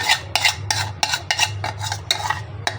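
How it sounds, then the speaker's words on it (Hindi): Yogurt is stirred into chicken white korma in a pot, with a spoon scraping and knocking in quick, uneven strokes, close and fairly loud over a low steady hum, with no talk. "अभी दही डालेंगे अपना।"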